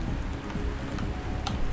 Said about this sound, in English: it's even raining right now